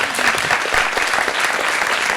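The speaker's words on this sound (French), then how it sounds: "Je crois qu'on peut les applaudir." An audience applauds the mediators at a gathering on mediation, artists and children, with a dense, continuous patter of many hands clapping at steady volume from start to finish and no voices over it.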